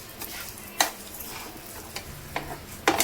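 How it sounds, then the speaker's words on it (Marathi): Pearl millet dry-roasted with a little oil in a pan, a faint continuous crackle broken by sharp scraping strokes of the spatula at irregular intervals, no one speaking. "बाजरीमध्ये आपल्याला थोडंसं तेल टाकून घ्यायचं आहे आणि बाजरी छान लालसर होईपर्यंत भाजून घ्यायची आहे"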